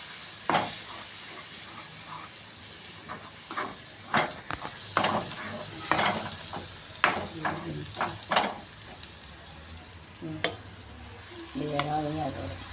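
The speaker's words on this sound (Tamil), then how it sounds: "இந்த வெங்காயத்தை இது போடுறேன். வெங்காயம் அரைச்சி வச்சுருக்கேன்." Ground onion paste and masala fry for a prawn gravy, a low sizzle punctuated by irregular spoon scrapes and knocks against the pan, with a brief voice near the end.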